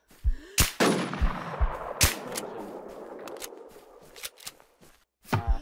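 Gunfire in the online zombie survival game Infestation: The New Z: several sharp, loud shots, some close together, with reverberant decay between them and no talk.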